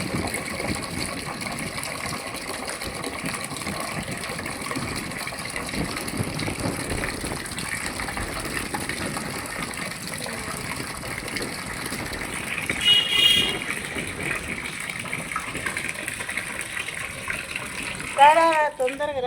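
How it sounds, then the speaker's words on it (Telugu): Water gushes steadily into a bucket being filled with a rice-washing water mix, a loud continuous rushing that holds throughout, with a short splashy swell near the end and talk in the background. "బకెట్ నిండా పోయాలి నీళ్ళు"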